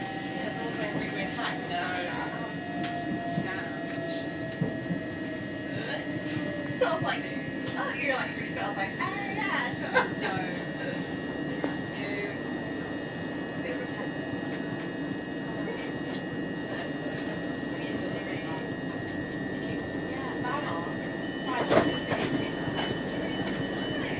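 A Southeastern passenger train running between Aylesford and Maidstone Barracks, heard from inside: a steady rolling rumble with a faint whine and occasional wheel clicks throughout, with voices under it.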